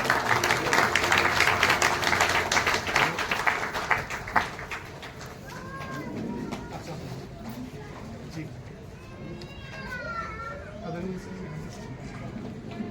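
An audience applauding at a memorial ceremony for fallen soldiers, loud dense clapping for the first few seconds that fades as a voice takes over and carries on speaking.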